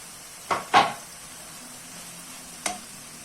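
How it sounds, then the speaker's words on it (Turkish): A steady soft sizzle of chopped spinach in a pot, broken by a few sharp clatters of utensils against the pan. "ıspanakları tencereye alıyorum."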